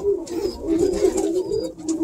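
Pigeon cooing up close in a loft, soft throaty rolling coos repeated in a steady low murmur, with faint rustling and other bird sounds in the background.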